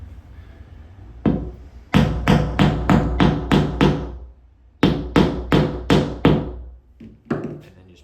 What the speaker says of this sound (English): just pound it till it's pretty flush with the wall